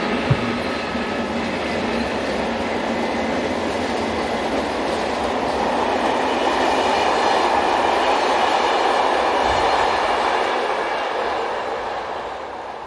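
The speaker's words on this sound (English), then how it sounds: "Here we see a joint departure featuring an AM73 unit and Class 27 electric number 2738" An AM73 multiple unit and Class 27 electric locomotive number 2738, hauling push-pull M6 coaches on an Amsterdam to Charleroi service, depart together with a steady, loud rolling rumble and faint wheel clatter that swells and eases slightly throughout.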